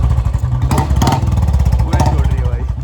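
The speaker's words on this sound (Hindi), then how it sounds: "आज महीने बाद बाइक स्टार्ट करिए भाई" Motorcycle engine running after being started for the first time in a month, a loud close rhythmic thumping idle with clattering mechanical noise throughout, a voice briefly heard over it.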